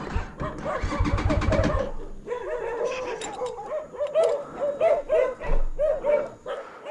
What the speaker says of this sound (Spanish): Y ahí vienen perros.